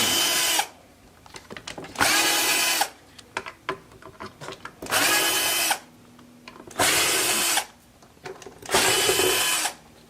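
A power drill backs the pickguard screws out of a budget Glarry electric guitar, running in loud, close whirring bursts of a couple of seconds each, separated by short pauses with light handling noise.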